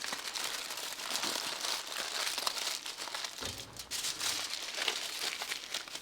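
Burgers are wrapped in parchment paper layered on tin foil, with close continuous crinkling and crumpling of paper and foil and a short pause midway.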